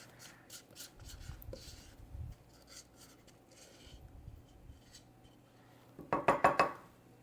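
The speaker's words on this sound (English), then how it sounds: "I'm just going to get all my cornbread out of my bowl." Cornbread batter being scraped out of a bowl with a utensil, heard as soft rubbing and scraping strokes at close range, ending in a few louder clinking scrapes against the bowl.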